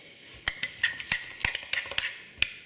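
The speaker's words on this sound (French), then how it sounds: "Je mélange." A spoon stirs about three tablespoons of a fibre-rich powder into a bowl, giving repeated sharp clinks and scrapes against the side in an uneven rhythm, close and fairly loud, with no talking.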